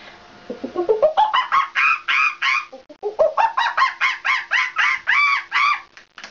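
A woman imitates a clucking chicken with her voice, a rapid series of sharp, rising clucks in two bursts, loud and close with no other sound behind them.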